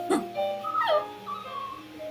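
A dog whimpers in the video game Honkai Impact 3rd, a few high, wavering whines and yips, close and fairly clear over quiet game ambience.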